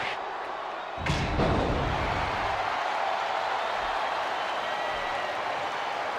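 Arena crowd noise from a wrestling match in WWE Smackdown vs Raw 2007, a steady broad roar swelling after a sudden thud near the start and holding loud throughout.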